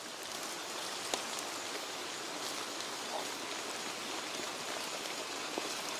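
Steady nighttime rain patters on leaves in mountain forest, a dense even hiss broken by a few scattered louder drips.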